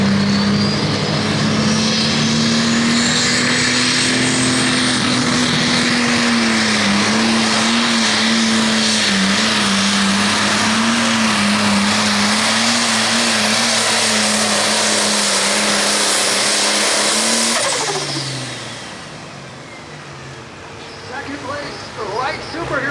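Light pro stock pulling tractor named About Time roaring at full power at an 8,500 lb tractor pull in Hillsboro, Wisconsin, a loud steady drone with shifting pitch that fades and drops away near the end.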